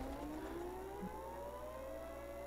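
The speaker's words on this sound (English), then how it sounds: "Yeah, I heard a siren." A tornado warning siren wails in the video game Garry's Mod, a steady rising civil-defense tone that sounds distant and sustained with no talk over it.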